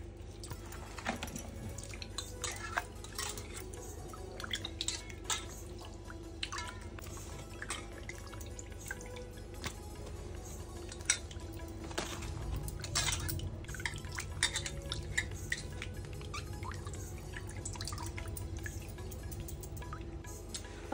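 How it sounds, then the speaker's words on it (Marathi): Small pieces of cut ribbonfish are rinsed by hand in a bowl of water, giving soft, irregular drips, splashes and light clinks against the vessel, close and quiet with no talking. "आता आपण त्या पाण्यात 2 ते 3 पाण्यात स्वच्छ धुवून घेऊया"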